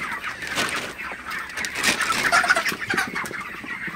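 A shed full of broiler chickens at night gives off a continuous low chorus of overlapping clucks and murmurs at moderate volume, with no talking.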